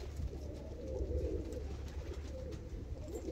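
White, heavily feather-footed Rakkas pigeons coo in low, repeated throaty rolls, close and steady over a faint low hum.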